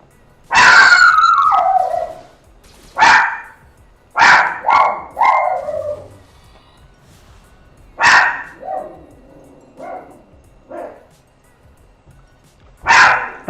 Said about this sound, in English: just wanted to mute that during the barking session